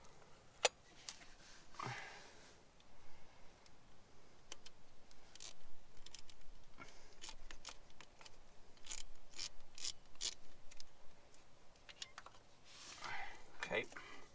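A ratchet turns a small socket, loosening a bolt on the 396 big-block V8 of a 1968 Impala. It makes a series of light metallic clicks in uneven bursts, with muffled handling noise and some speech between them.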